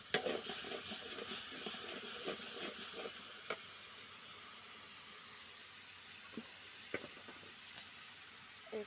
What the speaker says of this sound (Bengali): পেঁয়াজ, রসুন, ধনিয়া, জিরা, মরিচ, হলুদ, লবণ দিয়ে ভালোভাবে কষিয়ে নেব।